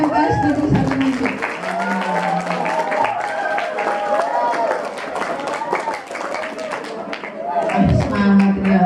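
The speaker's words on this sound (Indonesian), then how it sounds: "Tepuk tangan untuk MTS Negeri 1 Nganjuk." Students at MTs Negeri 1 Nganjuk clap together in a school assembly hall, a brisk patter of many hands heard under speech and crowd voices that carry on throughout.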